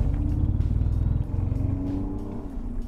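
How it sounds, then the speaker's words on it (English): A BMW E46 330ci with a failing drive shaft support bearing gives off a steady, low droning vibration, heard close and continuous with a slight dip in level partway through. "that's drive shaft support bearing going out"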